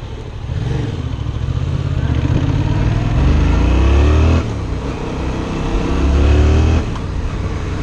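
A Yamaha FZ-07 motorcycle accelerates in second gear in Los Angeles, engine revving loud and close, with pitch climbing in sweeping rises and a brief dip between pulls.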